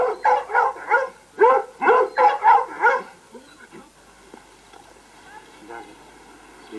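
A string of rapid, high yappy barks from two-month-old Rhodesian Ridgeback puppies, about nine in a row, then quieter whines and scattered yips.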